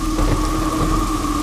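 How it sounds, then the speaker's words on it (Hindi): Dense, steady rain with a deep low rumble of thunder underneath, loud and continuous, with no voices, in a Hindi horror story. "इतनी बारिश क्यों हो रही है?"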